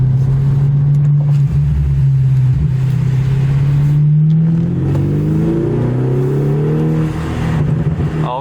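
2018 Audi S6 with new aftermarket intakes, heard with the window down: a loud, steady engine drone that swells into revving with rising pitch sweeps, continuous and close.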